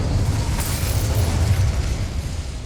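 Incendio fire spell blast in Hogwarts Legacy, a loud, sustained roaring whoosh of flame with a deep rumbling body that fills the whole moment without pause.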